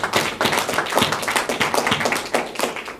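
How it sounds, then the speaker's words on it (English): An audience at a Brooklyn Christian Center press conference claps steadily, a dense run of close, crisp hand claps forming continuous applause with no speech over it. "I think that in itself deserves a round of applause"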